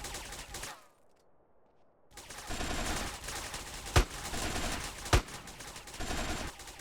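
Gunfire in the video game GTA: sustained rattling bursts fill most of the stretch after a short lull, with two sharp, loud single shots standing out, no voices.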